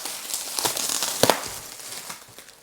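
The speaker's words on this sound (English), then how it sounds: "I'm going to unwrap it a little more" Wrapped packaging being peeled open inside a Victorian villa, crinkling and crackling up close in a steady rustle with a few sharper bursts.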